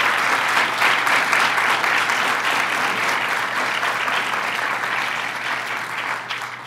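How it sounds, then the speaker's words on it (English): An indoor audience gives a political event a sustained round of applause for Senator Adriano Espaillat, dense and loud at first, then easing slightly, with no voices above it. "Let's give him a round of applause"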